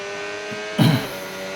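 A race car in a racing video game surges briefly, its engine note swelling for a moment over a steady tonal drone, then settling back to a low hum.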